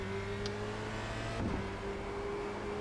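A race car engine in a video game at Interlagos holds a steady high droning tone, rising briefly with a short surge of revving near the middle, with no voices.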